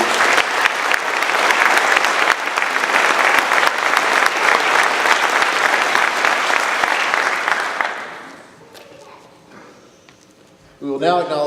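At an 8th grade cadet elevation ceremony, a crowd gives loud, sustained applause for academic awardees for about eight seconds, then it fades into quiet room noise before a voice begins at the end.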